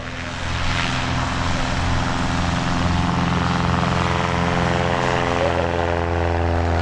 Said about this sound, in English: Now check out the performance of this relatively stock Cessna 172 by Kenneth Monger.